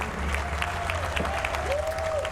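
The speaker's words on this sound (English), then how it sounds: "Once again, a standing ovation for the crowd here in Dallas." A crowd in Dallas giving a standing ovation, dense steady clapping and cheering at moderate distance filling the whole moment, with a faint voice murmuring underneath.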